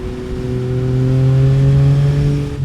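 A motorcycle accelerates in 6th gear around 110 km/h, a steady engine drone rising gradually in pitch over a few seconds, loud and close with wind noise and no talking.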